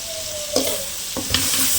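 Curry leaves dropped into hot oil for an egg curry, giving a steady close sizzle with two sharper bursts of crackling as they hit and settle.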